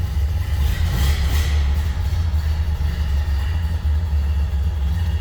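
A 1929 Ford Model A Depot Hack engine idles nearby with a steady, deep low rumble and a faint even chug, holding level throughout without any revving.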